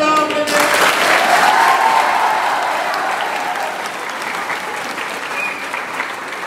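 A group of children applauds together in a steady, loud wash of clapping that thins gradually, with a brief tone and faint voices at the start.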